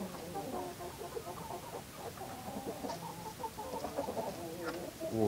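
A hen clucks softly and repeatedly in a yard after catching a mouse, a low murmuring cackle over steady background noise, with fainter bird calls mixed in.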